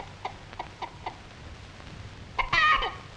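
An old hen clucks outdoors in a short rising burst near the end, preceded by a few soft, spaced clucks over a quiet farmyard background.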